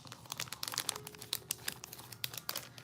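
A plastic package crinkles and rustles steadily after its seal is cut with scissors, a close, busy run of crackling handling noise lasting the whole moment.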